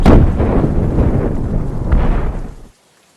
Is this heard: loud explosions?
yes